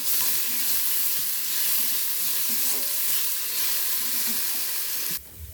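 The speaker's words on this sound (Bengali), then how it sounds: "এবার দিয়ে দিচ্ছি কিছুটা মুগ ডাল, এটাকে একটু ভেজে নেব লাল লাল করে" Mung dal frying in a pan gives a dense, close crackling sizzle with faint stirring scrapes, steady throughout before dropping off suddenly at the very end; no speech.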